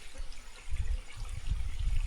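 Irrigation water released into a channel, a low rumbling flow with gurgling surges that grow louder after the first second, heard alone.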